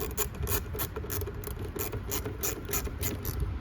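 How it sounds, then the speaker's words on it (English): Ratchet with a 10mm socket loosening a part on a Lexus LS460, a steady run of quick, even clicks repeating throughout at close range. "Now with the same 10mm socket, you see this part right here, we gotta loosen it up."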